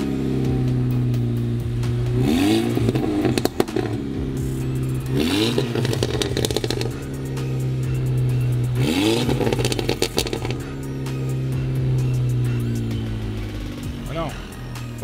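A tuned Volkswagen Golf GTI Mk6 engine revs repeatedly in rising bursts over a steady idle drone, heard close and loud, with people talking in between.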